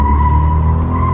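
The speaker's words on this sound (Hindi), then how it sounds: "भाई साहब, सेकंड गियर में व्हील स्पिन।" A Renault Kiger turbo spinning its wheels in second gear, a loud steady engine roar under a sustained tire squeal, close and continuous.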